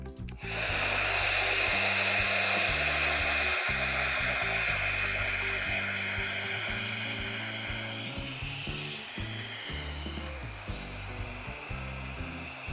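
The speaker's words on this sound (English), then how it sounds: "blow some hot air on the paperclip" A hair dryer blows hot air onto a metal paperclip, a loud continuous whirring roar that starts abruptly and holds steady throughout, fading slightly toward the end with faint knocking underneath.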